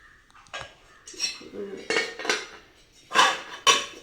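Small heavy aluminium idli steamer pot being handled, giving a series of short metallic clanks and clinks at irregular intervals, close by, with soft talking between them.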